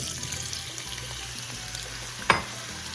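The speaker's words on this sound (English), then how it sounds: "to a pan with about a 1/4 cup of canola oil, I'm adding the onions and the garlic" Onions and garlic sauté in about a quarter cup of canola oil in a pan, a steady close sizzle with light stirring, broken near the end by a brief louder scrape or splash.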